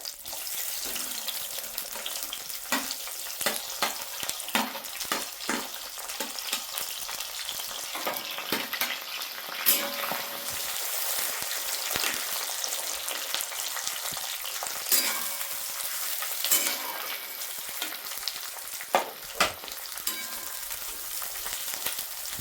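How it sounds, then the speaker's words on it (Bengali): Onions fry in hot oil with bay leaves in a pan for duck curry, a steady close sizzle with frequent clinks and scrapes of stirring throughout, no talking. "দেখো এখানে আমি পেঁয়াজটা ভাজছি"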